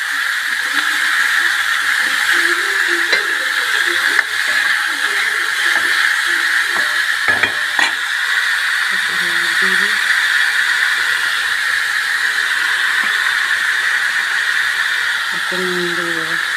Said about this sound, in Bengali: এবার উচ্ছেটা দিয়ে দেবো ভাজা